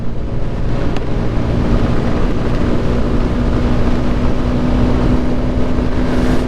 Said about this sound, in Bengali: এখান থেকেই দেখি ফুল থ্রোটল টাইনে দিয়ে যে কত স্পিডে যায়